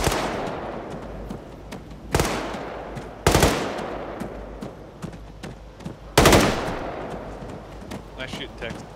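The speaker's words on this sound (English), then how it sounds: "Nice shooting, Tex." Bursts of gunfire in a zombie video game, several loud, sharp volleys spaced a few seconds apart with ringing decay, while players talk faintly between shots.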